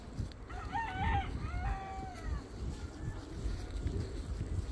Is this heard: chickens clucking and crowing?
yes